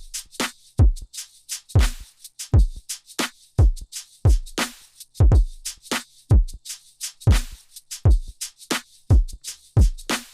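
An electronic drum loop for a bass-music production: punchy kicks and bright snare or clap hits in a steady, even rhythm, loud and alone with no voice.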